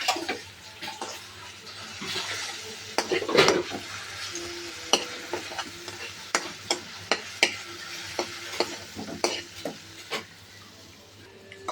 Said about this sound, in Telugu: దీన్ని మనం ఒకసారి కలుపుకోవాలండి.